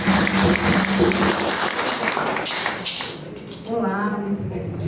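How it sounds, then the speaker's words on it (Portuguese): Audience applause at a talk on religious education for children, a crowd clapping steadily under a speaker's amplified voice, fading toward the end before talking resumes. "Uma salva de palmas para ela."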